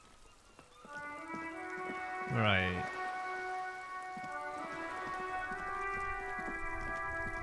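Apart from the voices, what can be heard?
rain in the video game Disco Elysium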